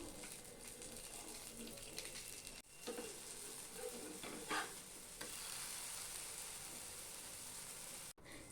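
Sweet potato batter frying in a pan over a low flame, a soft steady sizzle that carries on unbroken, with a few light scrapes and stirs near the middle. No voices are heard.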